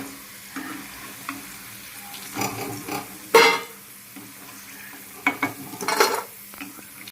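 Potato French fries frying in hot oil at home, a steady close crackling sizzle with louder bursts of bubbling and occasional clinks as they are stirred, no talking.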